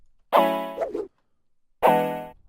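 A Serum synth pluck with the sub oscillator off sounds two bright, harmonic notes, the first with a short bending tail, separated by a gap of silence, clean and alone.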